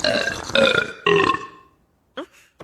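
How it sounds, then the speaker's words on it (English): Donald Duck lets out two long, loud, rasping burps in a cartoon, followed by a brief squawking vocal sound near the end. "And Donald burps in response to her. More loudly."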